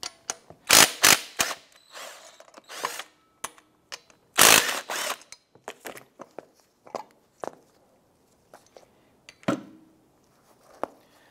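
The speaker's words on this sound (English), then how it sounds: "Using a 13 millimeter socket, we're gonna loosen and remove the two slotter pin bolts." A 13 mm socket on a ratchet loosens the brake caliper slider pin bolts on a 2005-2007 Ford Five Hundred, with close, loud bursts of rapid ratchet clicking, then scattered metallic clicks and clunks.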